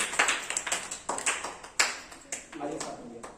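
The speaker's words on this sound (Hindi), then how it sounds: "दादी मां, जोरदार तालियां।" An audience clapping together at a school parents' session, a quick run of dense, close hand claps that thin out toward the end, with a voice briefly over them.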